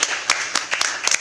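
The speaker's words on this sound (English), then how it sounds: "A little round of applause for..." A few people clap in a short, scattered burst at a county public meeting, with uneven sharp claps spread over about a second and no voices heard.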